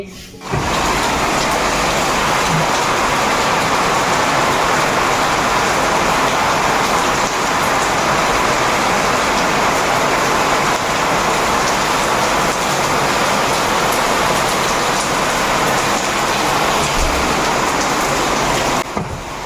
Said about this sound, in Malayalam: തുള്ളിക്കൊരുകുടം എന്ന് പറയുന്ന പേര് മഴയാ ഇവിടെ എന്തോ ഒരു മഴയാ